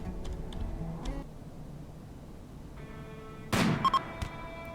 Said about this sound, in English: Where are they launching the mortars from?